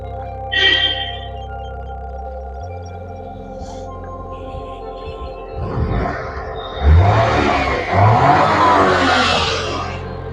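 A 2017 Maruti Wagon R petrol car in neat condition idles with a steady hum, then revs up twice, and the engine note climbs and swells loudly before settling back.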